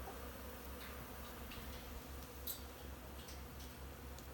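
Bees flying at an apiary on a sunny winter day at 44 degrees, a faint steady outdoor hum and hiss with a few brief buzzing passes, no talking.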